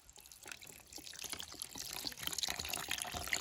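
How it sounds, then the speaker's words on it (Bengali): Clam meat is rinsed with water beside a river, a soft running splash and trickle that slowly grows louder and busier over a few seconds, fairly faint and close, with no voices. "আমরা ঝিনুকের মাংসটাকে এখন ভালোভাবে পরিষ্কার করে ধুয়ে নিব জলটা দিয়ে"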